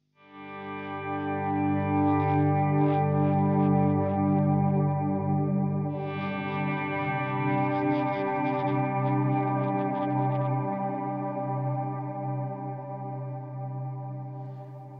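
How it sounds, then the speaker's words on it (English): Sustained electric guitar notes and chords swell slowly in volume, washed in chorus, delay and reverb for a wide, spacey sound; a long continuous tone with a second swell midway, played alone with no talking. "playing a note or a chord before slowly increasing the volume again on your pedal or guitar"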